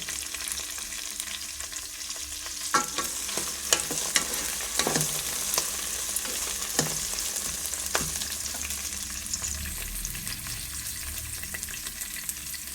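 Green chillies frying in oil, a constant sizzling hiss with intermittent sharp scrapes and clicks of a spatula against the pan, no talking.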